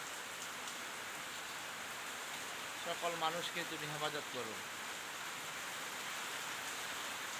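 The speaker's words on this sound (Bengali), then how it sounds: "দেখেন কি বৃষ্টি, বৃষ্টির জন্য বের হতে পারছি না কোথাও।" Steady heavy rain hisses as a broadband wash throughout, with a person speaking briefly in the middle over the downpour.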